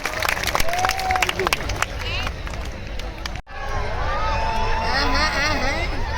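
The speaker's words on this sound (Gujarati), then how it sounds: "દિગુભા ચુડાસમાને તાળીઓના ગડગડાટથી વધાવી દો" An audience claps to welcome performer Digubha Chudasama at a Gujarati dayro comedy show, a dense sustained patter of hands with crowd voices and a speaker over it.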